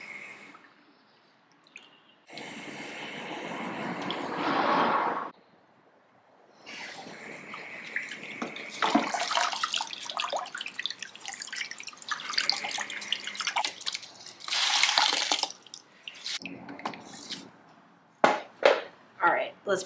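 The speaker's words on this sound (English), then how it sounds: "I'm going to be dipping each of these pieces multiple times to ensure that I get a good color." Pieces of shibori-tied fabric dipped repeatedly into an indigo dye bath, with bursts of sloshing, dripping and squishing liquid broken by quiet gaps, close up.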